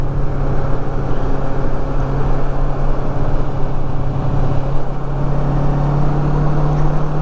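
A motorcycle cruises in fourth gear along the winding mountain road of the Cherohala Skyway, its engine holding a steady loud drone with constant wind rush and no speech.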